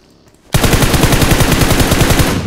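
Rapid automatic gunfire in the PUBG Mobile video game, a loud close burst that starts abruptly and rattles continuously for about two seconds.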